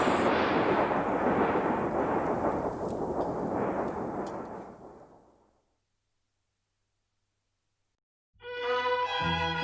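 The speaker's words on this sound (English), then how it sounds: "Why, lightning!" Loud rumbling thunder from a lightning strike rolls for about five seconds, fades into silence, then music cuts in near the end.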